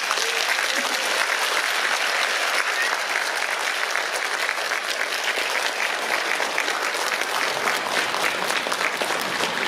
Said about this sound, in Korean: 박수 한번 더 쳐드리겠습니다